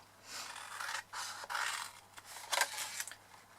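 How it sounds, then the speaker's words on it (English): Vertical score lines cut into paper for a treat box base: several short, close scratchy cutting strokes, rasping and uneven, with brief pauses between them. "then we just simply need to cut these vertical score lines here"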